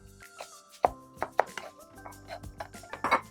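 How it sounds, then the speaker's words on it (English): A knife chops chicken into chunks on a cutting board in a home kitchen. About eight crisp, close thuds fall at an irregular pace against a quiet background, with no voices. "cut it into big strips, and each one of those into a couple of chunks."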